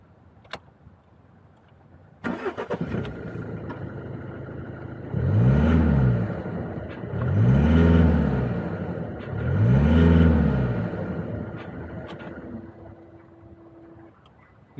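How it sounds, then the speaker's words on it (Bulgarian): A car engine cranks and catches after a quiet start, then settles into an idle and is gently revved three times in even, rising-and-falling swells before returning to idle. "Запалете колата, подайте 3 пъти плавно газ, така че да се чуе автомобила как натоварва"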